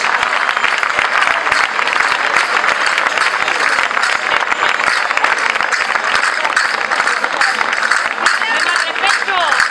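A crowd in a town's main square applauds a folk group at a festival, a loud, continuous wash of clapping and cheering that holds steady throughout.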